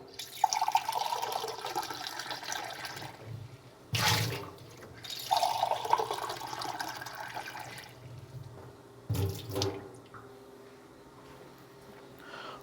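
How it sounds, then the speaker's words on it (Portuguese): Deionized water poured into a laboratory beaker during a chemistry lesson, rushing liquid in two long bursts separated by clunks and brief pauses, close and fairly loud, with a softer trickle toward the end. "Vou fazer uma passagem de água deionizada no becker, descartar e aí sim preencher com água deionizada"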